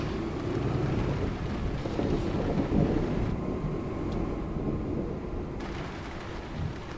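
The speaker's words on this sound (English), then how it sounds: "And it's raining. Not man, but real rain." Steady rain hissing in Euro Truck Simulator 2 while driving, with low rumbling underneath, continuous and fairly loud throughout.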